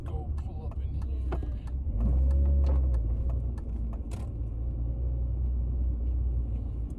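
A Mini Cooper S R53 engine rumbles steadily from inside the moving car, swelling louder for about a second as it pulls, with light mechanical clicks and a voice speaking over it.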